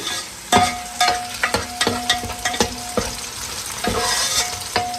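Onions frying in a pan for Rajasthani laal maas, loud close sizzling broken by sharp, irregular spatula knocks and scrapes, with no voices.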